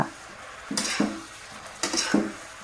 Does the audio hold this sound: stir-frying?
yes